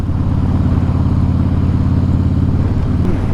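A 2014 Harley-Davidson Breakout FXSB engine rumbles loud and steady during a ride, a deep, even drone with no talk over it.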